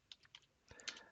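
Laptop keyboard keys tapped as a command is typed, a few separate clicks followed by a quicker cluster of keystrokes, close and fairly quiet.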